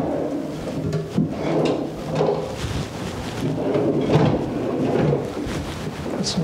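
Cherry wood cabinet drawers in a bathroom vanity sliding open and shut, a run of low wooden rumbles and soft knocks close by, mostly continuous with a few sharper bumps.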